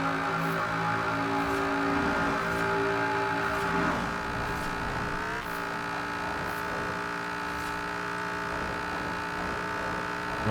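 Camaro IROC Z engine in Forza Horizon 4 drones steadily at high revs with a constant, tonal whine, then shifts down slightly partway through and holds a long, unbroken note.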